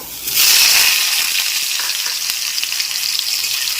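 Raw mango pieces hit hot oil with a mustard-seed and dried-chili tempering for a sour dal, bursting into a loud, bright sizzle that holds steady for several seconds with faint stirring beneath.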